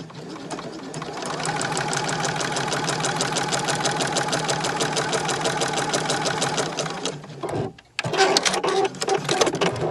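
A sewing machine stitches a straight line through pieced fabric scraps, its needle running in a steady rapid rhythm for several seconds, pausing briefly, then starting up again close and clear.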